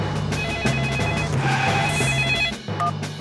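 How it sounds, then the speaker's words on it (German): A cartoon telephone rings in repeated electronic trilling bursts, loud and near, with brief gaps between rings. "Ich rufe Herrn Bulle an."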